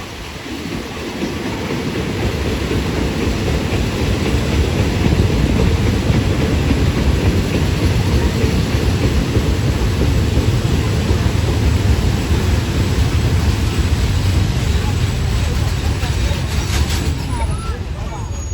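Passenger train 445 on the Lang Suan–Surat Thani line in Thailand, nearing Tha Chana station: a loud, steady rumble of wheels and carriage noise from on board that builds in the first seconds and holds throughout.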